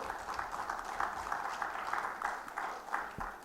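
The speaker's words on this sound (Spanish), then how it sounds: "Dele palmas al Señor si lo está viendo" Church congregation clapping in praise during a Spanish-language worship service, a steady, moderately distant patter of many hands with a loose rhythmic pulse, continuing evenly throughout.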